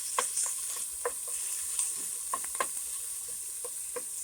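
A big scoop of garlic sizzling in a soup pot for Zuppa Toscana makes a constant frying hiss, with frequent light clicks and taps of a utensil stirring, close and without speech.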